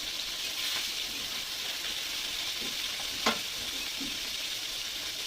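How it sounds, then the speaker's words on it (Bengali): Fish fries in a pan with a steady, loud sizzle throughout and a few brief pops and stirring clicks. "এবার মাছটা একটু ভাজা করে নেবো"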